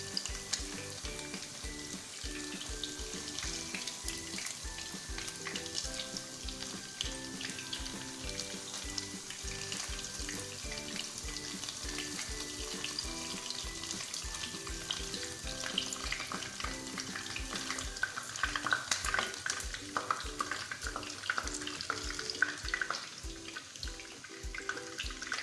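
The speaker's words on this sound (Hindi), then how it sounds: "फ़िश जो है बहुत अच्छे से फ्राई हो चुकी है" Fish frying in hot oil in a kadai, a dense continuous crackling sizzle with rapid popping, steady throughout and moderately quiet, heard alone.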